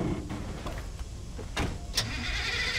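A vehicle engine drones steadily while a car is driven in Far Cry 2, with a few brief knocks and clunks over the continuous motor sound.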